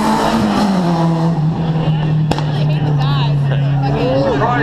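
A Golf R and an Opel GT race side by side, a loud, sustained engine drone holding a steady high pitch, with a brief sharp crack midway and a faint voice toward the end.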